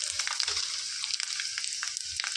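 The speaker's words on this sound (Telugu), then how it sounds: "స్టవ్ వెలిగించుకొని చిన్న మూకుడు పెట్టేసుకొని తాలింపుకి ఆయిల్ వేసుకున్నామండి 2 టేబుల్ స్పూన్లు" Garlic, tempering seeds and dried red chillies sizzle in two tablespoons of hot oil in a small pan on a stove, a steady crackling fry with sharper pops and stirring scrapes.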